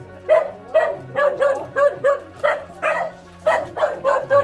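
Several dogs bark continuously at a poor dog shelter in the Philippines, loud and close, with rapid overlapping barks and yips in a steady rhythm.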